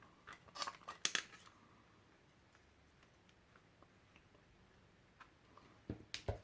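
Scissors snip through paper for a handmade mini album, a few crisp close cuts in quick bursts at the start and again at the end, separated by a quiet stretch.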